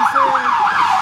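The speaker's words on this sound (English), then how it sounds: "You hear fucking cop sirens" A loud wailing police car siren sweeping up and down in quick repeated cycles, close by in Philadelphia with faint road noise beneath.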